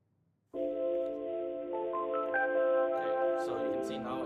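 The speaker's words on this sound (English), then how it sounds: "so you can see now it has that ringing feature when it's transferring the call." Phone ringback tones play while a virtual assistant for a solar company transfers a call to a human, a steady electronic ringing tone that repeats through the clip with no talk over it.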